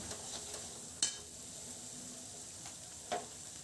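Ground spices sautéing in a pan over high flame give a faint, steady hiss, with a couple of light spoon or pan clinks and no voices.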